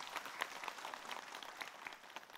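Brief, faint applause from an audience welcoming Habib Usman, a soft continuous patter of clapping heard from a distance.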